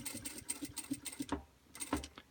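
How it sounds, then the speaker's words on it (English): A sewing machine stitches bag straps onto the lining in short rhythmic bursts of rapid needle clatter, close up, with a few brief pauses between runs. "we're going to sew back up to this corner right here"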